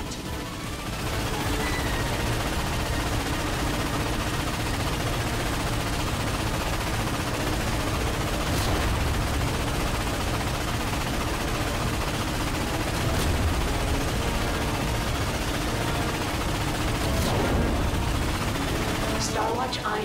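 Relentless heavy gunfire and ion cannon booms from a defense cannon in Ratchet & Clank fill the whole stretch, a loud, unbroken wall of battle noise with occasional sharper blasts.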